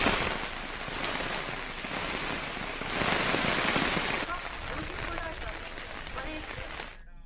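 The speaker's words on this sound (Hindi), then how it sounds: "काशीपुर में हो रही लगातार बारिश से पूरा शहर पानी में डूब गया है।" Continuous heavy rain falls over flooded Kashipur streets, a dense steady hiss of water that swells louder midway and then eases slightly before fading out at the end.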